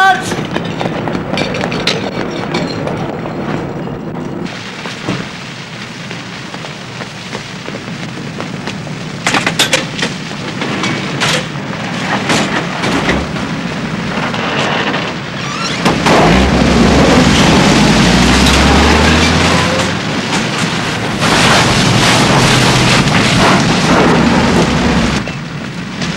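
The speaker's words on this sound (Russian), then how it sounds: "Взрыв в малярном отделении. Взорвались носовые танки." Deep booming blasts and crackling bursts erupt amid loud roaring noise from a burning oil tanker, its bow tanks and paint shop exploding, growing heavier and more continuous in the second half.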